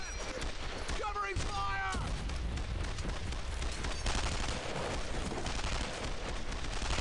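Rapid gunfire and battle noise from the World War II shooter Brothers in Arms: Earned in Blood, a dense, continuous clatter of shots. Someone talks over the first couple of seconds.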